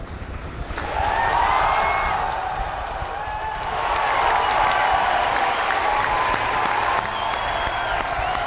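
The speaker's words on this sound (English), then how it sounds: "You can hear the crowd" A crowd at a SpaceX Falcon 9 launch cheers and applauds, a broad wash of clapping and shouts swelling after a quieter opening and staying loud, with distant voices mixed in.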